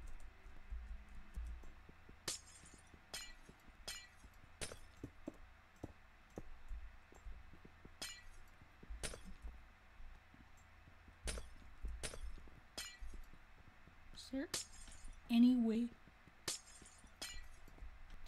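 Glass blocks shatter in the Minecraft video game in a string of short, sharp breaking clicks spread across the stretch, with a brief burst of louder activity near the end.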